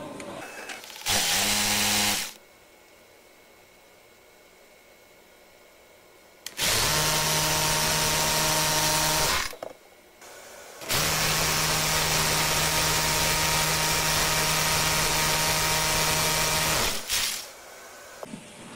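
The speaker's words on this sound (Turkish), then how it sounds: "Matkapımızı darbeli kısmı alıyoruz" Hammer drill in impact mode boring holes for steel wall anchors, three loud sustained bursts of whining, rattling drilling separated by quiet pauses, close to the microphone.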